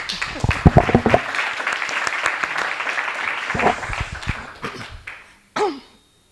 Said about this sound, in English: So, I would like then to please give a round of applause to all of you.